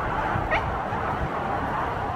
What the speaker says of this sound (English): And my dog barking.